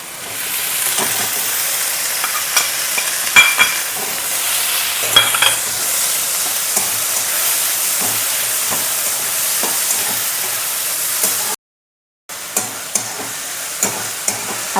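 Crushed green chili, green garlic and green onion frying in a pan, a loud steady sizzle with occasional stirring clinks throughout and a brief dropout near the end.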